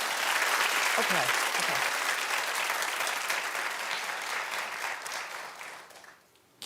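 Studio audience clapping on The Wendy Williams Show, a loud, dense burst of applause with some voices mixed in, tapering off near the end as a single word is spoken.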